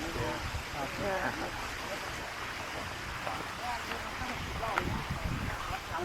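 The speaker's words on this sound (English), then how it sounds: "It's actually nice that the waterfall is there." Flowing water at Huay Keaw Waterfall near Chiang Mai, Thailand, a steady broadband rush heard close by with people talking over it.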